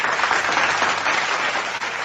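Steady, fairly close clapping fills a live radio stream broadcast with even, continuous applause.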